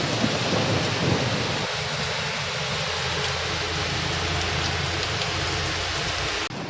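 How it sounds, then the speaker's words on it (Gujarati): Heavy rain pours down in Daman, a dense continuous hiss of drops beating on surfaces, with a low thunder rumble rolling underneath throughout and no voices. "દમણમાં તો બહુ ભારે વરસાદ પડી રહ્યો છે અત્યારે"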